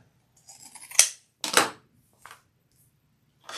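Scissors trim fabric for a crossbody bag in a few short, crisp snips spaced through a quiet room, close and fairly loud, with no talking.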